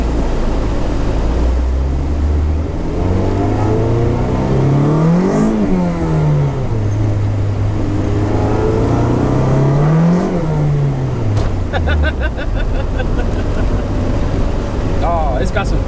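Car driving around the block, engine accelerating in two clear rising pulls that peak and drop back as gears change, heard from inside the cabin with a brief clatter at the end.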